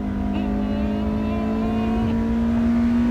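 A 2010 Toyota Corolla Altis with a 2ZZ-GE engine drones loud and steady, revved hard through the gears while climbing onto a bridge, its pitch held high with a slight upward climb, heard from inside with no talking.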